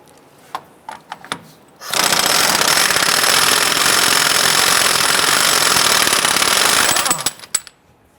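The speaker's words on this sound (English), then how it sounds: "Using a 32mm socket, we want to go ahead and remove this nut on our spindle." A powerful impact wrench hammers loose the spindle nut with a 32mm socket on a Chrysler 300, one sustained loud rattling burst lasting about five seconds, framed by a few sharp clanks of tools before and after.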